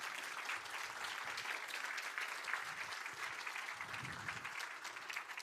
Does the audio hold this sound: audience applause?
yes